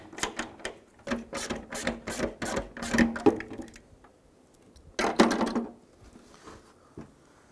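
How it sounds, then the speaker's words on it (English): A ratchet with an extension and T20 Torx bit undoing a fog light adjuster screw on a 2004-2009 Dodge Durango, rapid clicking bursts in two runs separated by a pause, close and quiet. "I'm going to go ahead and use a T20 Torx bit with our extension and ratchet, and we're going to undo the adjuster here."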